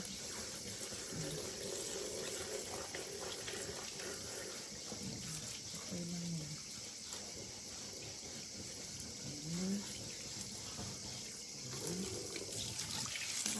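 Water runs steadily from a tap while a temple statue is washed down during a yearly cleaning in Japan, a soft continuous rush with a few brief words spoken over it.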